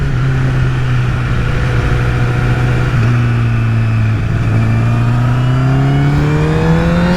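A Honda CBR1000RR Fireblade SC59 superbike in second gear at part throttle on a road, its engine note rising steadily in pitch as it accelerates, loud, close and continuous with no voices.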